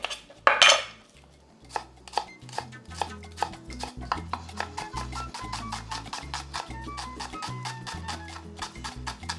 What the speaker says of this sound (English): Now peel and mince 1 shallot.